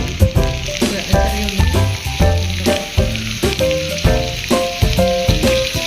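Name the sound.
small onions (shallots) frying in hot pan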